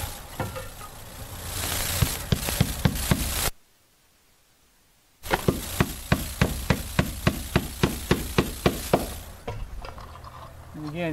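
A hammer nails vinyl soffit on new construction, sharp close taps in runs before and after a brief silent gap, with talk and rustling underneath.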